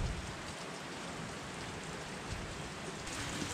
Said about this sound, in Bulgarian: Не е спряло да вали...